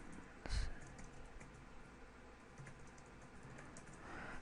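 Keys tapping on a computer keyboard while a tweet is typed, with a single louder thump early on followed by soft, sparse clicks over a quiet room background.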